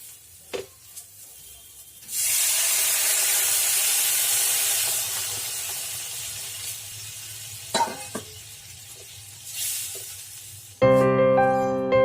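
A pan fry with black pepper added bursts into a loud, close hissing sizzle that fades after a few seconds into quieter crackles and light utensil clicks, ending with a brief tonal sound.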